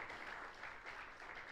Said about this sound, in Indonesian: Ayo beri tepuk tangan yang meriah buat Tuhan Yesus.